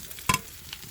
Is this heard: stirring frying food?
yes